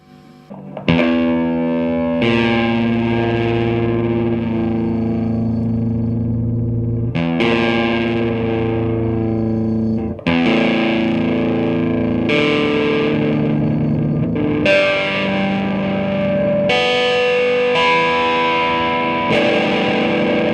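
Electric guitar through an Ibanez Tube Screamer TSA30U distortion pedal, playing sustained overdriven chords with strong harmonics and a few restrikes, loud and continuous with slight hum underneath.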